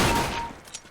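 A quick burst of gunfire from a burst-fire rifle in the video game CS:GO, a loud cluster of shots that fades into a short tail with a small trailing click.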